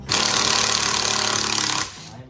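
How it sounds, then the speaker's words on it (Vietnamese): An electric screwdriver backing screws out of a Yamaha YST-SW800 powered subwoofer, a loud, continuous motor whir for under two seconds before it cuts off abruptly. "Các bác nghe tiếng khoan, tiếng máy bắn vít nó kêu là ốc là chưa tháo lần nào nhé"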